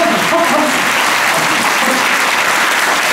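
An audience at a political meeting in Japan claps together, a dense, loud, sustained wall of applause that holds at an even level throughout without any speech over it.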